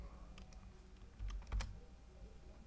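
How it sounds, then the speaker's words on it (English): Keys on a computer keyboard are tapped in a short, close run of a few clicks, typing a search into a Mac during a Hackintosh build. "We'll go up to Spotlight and type in terminal."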